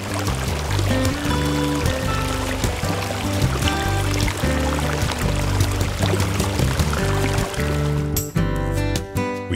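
Water tumbles steadily through a pondless garden waterfall, a loud, continuous rushing and splashing close by with no talking.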